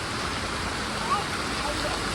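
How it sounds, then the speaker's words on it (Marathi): Rain pours down outdoors as a dense, even hiss of falling water, loud and continuous throughout. "पाऊस आहे ना."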